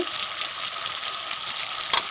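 Onion, ginger, garlic, chili and chopped tomato sizzle in a frying pan while being stirred, a steady close hiss of cooking with a brief louder scrape near the end.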